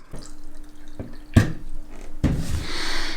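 Water is added to moist Siberian cedar seeds in a container: a few soft drips, then two distinct splashes and a wet trickle, close up with no speech.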